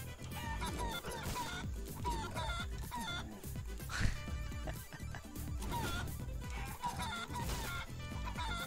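Chicken clucking in the video game Guacamelee 2 sits under a dense, loud game soundtrack with frequent hits and crashes, and the fowl calls are woven through the busy mix.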